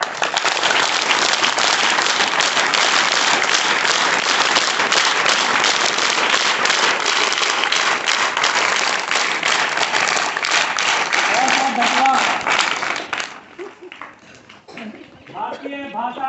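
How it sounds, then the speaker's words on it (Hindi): An audience at a school Indian languages festival (Bharatiya Bhasha Utsav) claps steadily and loudly for about thirteen seconds in a sustained wash, then the applause cuts off and a voice starts speaking. "छोटी सी ताली से करने जा रहे हैं।"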